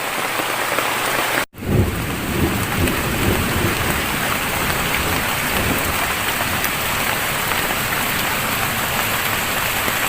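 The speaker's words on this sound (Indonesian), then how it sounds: "Ada geludug." Heavy rain pours steadily onto a forest canopy and ground, a dense, loud, continuous hiss, with rumbles of thunder rolling underneath early on after a brief dropout in the sound.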